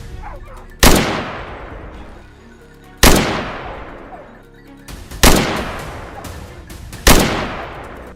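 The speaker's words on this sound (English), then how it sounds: "Only when they reached an open area could we open fire." Four loud gunshots ring out across open hillside during a wild hog hunt, spaced about two seconds apart, each a sharp crack followed by a long echoing decay.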